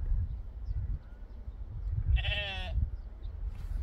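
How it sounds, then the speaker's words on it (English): A single sheep bleats nearby in the Peak District countryside, one wavering half-second cry rising out of steady wind rumble and outdoor background noise. "Sheep here."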